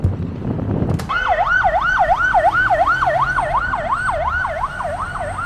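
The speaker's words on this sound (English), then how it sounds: "An ambulance." Ambulance siren on a Lisbon street, a loud wailing two-tone sweep rising and falling steadily after a brief burst of traffic noise, sustained close by throughout.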